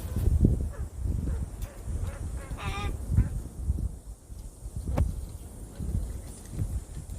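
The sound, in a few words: crow calling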